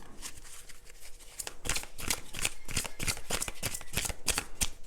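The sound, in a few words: shuffling and redistributing cards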